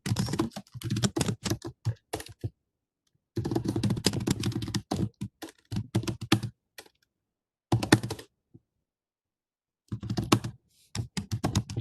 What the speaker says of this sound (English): I'll type the full name here.